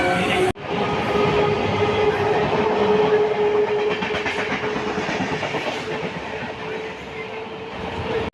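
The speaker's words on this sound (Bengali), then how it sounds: "bye bye train, bye bye train" A train rolls steadily past at Tambaram station in Chennai, a loud continuous rumble with clickety-clack from the wheels and a faint tonal whine, heard alone with no talk over it.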